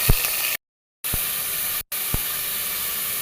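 Onion dropped into hot oil for a ridge gourd curry gives a loud, bright, steady sizzle up close. The sound is cut by two abrupt silent gaps, and a few soft knocks can be heard.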